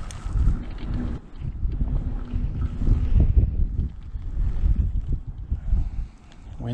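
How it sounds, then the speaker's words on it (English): Wind gusts beside a river, a rumbling buffet that swells and drops across the microphone in uneven waves. "Starting to gust a little bit."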